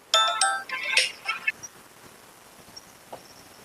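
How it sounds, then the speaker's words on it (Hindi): A phone ringtone plays a bright, chirpy melody for about a second and a half, then cuts off, leaving quiet background noise. "एक सेकंड, फोन आ रहा है।"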